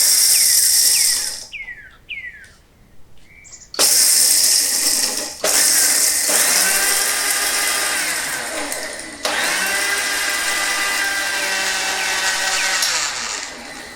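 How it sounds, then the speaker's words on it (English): A mixer grinder with a small jar grinds chana dal into fine powder, loud steady whirring motor in several runs separated by brief stops and restarts, with a high whine throughout. "Now I am going to grind this chana dal with a small jar."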